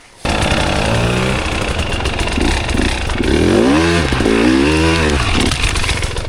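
Two KTM 300 and one Husqvarna 300 two-stroke enduro dirt bikes ride over dirt mounds, engines buzzing loudly and close with repeated throttle blips and rising revs throughout.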